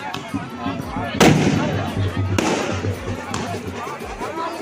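Firecrackers and fireworks burst during a Govardhan Puja celebration, sharp cracks and booms over a constant crackling haze, with people talking throughout.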